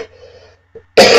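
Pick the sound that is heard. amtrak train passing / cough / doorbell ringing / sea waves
cough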